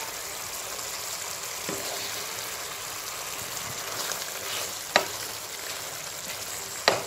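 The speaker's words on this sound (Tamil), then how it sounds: "குழம்பு சும்மா ஒரு 2 நிமிஷம் கொதிக்கட்டும்." Oily eggplant curry (kulambu) bubbles and sizzles in a pan on the stove, a steady soft hiss of simmering with occasional sharp clinks or pops near the end.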